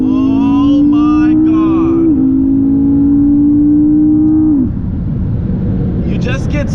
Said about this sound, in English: I'll do another pull really quick. I'll do a second gear.